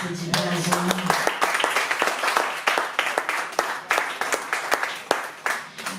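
Concert audience applause in Nice comes as a scatter of individual claps, some rhythmic and uneven, while a voice talks over it near the start.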